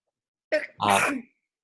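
One person sneezes nearby in a quiet meeting room, a short sharp intake burst followed by a longer explosive blast, then silence.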